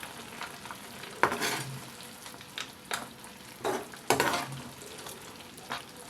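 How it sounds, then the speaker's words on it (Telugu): Fried vadiyalu being stirred into a drumstick curry in a pan make soft sizzling under repeated scraping stirs, several distinct strokes spaced a second or so apart, close and moderately quiet with no talking. "ఇప్పుడు దీనిలో ఫ్రై చేసిన వడియాలను వేసేద్దాం ఒకసారి కలుపుకుందాం"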